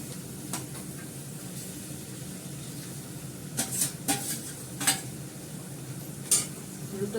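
Fish going into a hot pan with a little water and being stirred, a steady sizzle and hiss under scattered sharp utensil clinks and scrapes against the pan, no talking.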